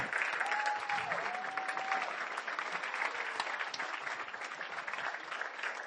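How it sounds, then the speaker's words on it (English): Audience applause at a school annual day celebrating a Grade 5 performance, a steady, dense clapping that fills the hall for about six seconds, with a faint whistle-like tone near the start. "Let's give them a big round of applause."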